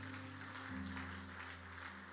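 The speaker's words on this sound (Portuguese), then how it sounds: "mais uma salva de palmas, né, para essa família linda" Applause from a church congregation for a family, soft and steady clapping in the background beneath a low, continuous hum with droning tones.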